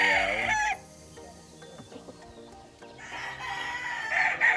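A sweater gamecock rooster at a game farm crows loudly and close at the start, then a second, drawn-out crow rises near the end after a quieter stretch of farm ambience.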